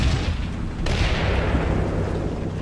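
A prolonged artillery strike rumbles through a Combat Mission wargame battle at Celleno in the Italian campaign, a steady heavy roar of distant booms with a sharper blast breaking through partway.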